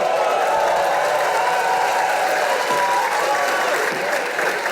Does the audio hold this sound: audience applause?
yes